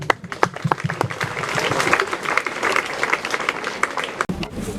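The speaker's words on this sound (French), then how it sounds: "dites merci et applaudissez." A congregation at a funeral mass breaks into sustained applause, dense overlapping claps filling the church with some murmured voices underneath.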